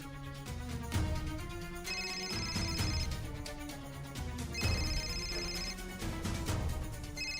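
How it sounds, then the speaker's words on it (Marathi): A mobile phone ringtone plays a repeating melodic tune, loud and clear, with bright chiming notes that recur in cycles and no talk over them. "साहेबांचा फोन"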